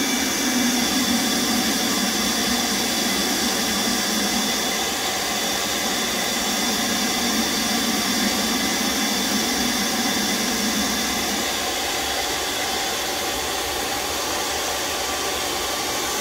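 A heat gun dries clay on a pottery wheel while a vase is being thrown. It gives a loud, continuous blowing roar that holds steady for the whole stretch, with no talking.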